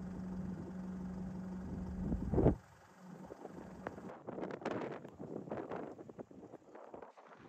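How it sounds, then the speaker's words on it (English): Breezy wind gusting across an outback salt pan in South Australia, buffeting the microphone with a rough roar that cuts out abruptly, then returns as uneven, fluttering gusts. "It's a bit breezy, blowing all that salt all around the place."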